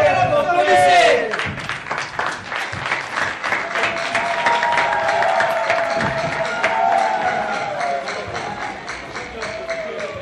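A seminary audience applauding a stage performance in Kinshasa: a loud burst of crowd clapping and cheering, with voices shouting over it, settling into sustained applause and chatter.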